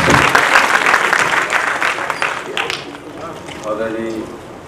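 Loud crowd applause fills the first seconds, dense clapping that gradually thins and fades, with a voice speaking over it toward the end.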